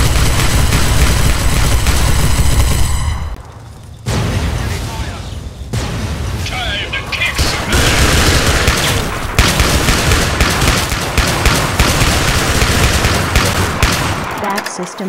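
Enemy gunfire in the post-apocalyptic game Fallout 3 with mods, loud sustained bursts and rapid shots mixed with explosive booms, nearly continuous with a brief lull, while a voice speaks over the chaos.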